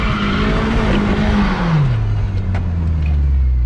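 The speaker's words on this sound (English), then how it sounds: "the power steering sounds terrible" A loud Genesis car engine runs under a low, groaning power steering whine that sinks lower in pitch as the wheel turns.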